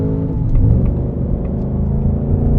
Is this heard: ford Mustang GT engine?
yes